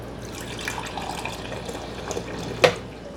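Tap water running steadily into a container while making infused oil, a continuous close splashing flow with a brief louder splash near the end.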